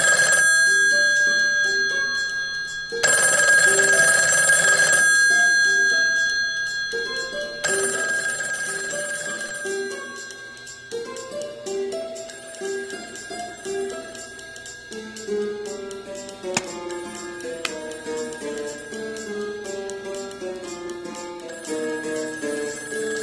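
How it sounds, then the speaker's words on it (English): A telephone rings inside the Taskmaster VR video game, a repeating electronic bell that sounds in long bursts, with bright tonal chimes and clicks running alongside, no talking. "the phone is ringing"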